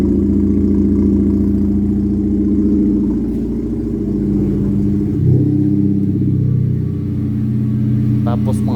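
A 2006 Honda Civic with a dual-exit exhaust idles close by, with a steady low rumble and a slight swell partway through.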